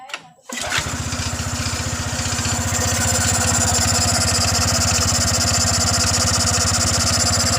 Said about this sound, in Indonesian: Yang penting motor ini sudah hidup kembali.